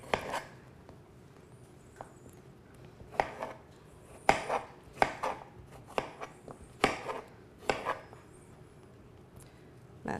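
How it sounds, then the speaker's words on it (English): A knife slices honeydew melon into cubes, sharp loud cuts landing in an irregular series of distinct chops on a board, close up with no talking. "how's that for loud slicing?"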